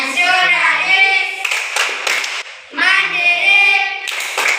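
Children clap in rhythm during a group clapping chant at a school or church activity. Chanting voices alternate with quick bursts of clapping, loud and close.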